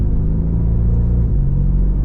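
Porsche Panamera in Sport Plus mode on a race track, its engine note a steady loud rumble close by as the car accelerates, continuous with no voices.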